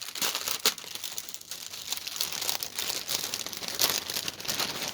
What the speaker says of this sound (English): I'll finish messing with that plastic bag in a second.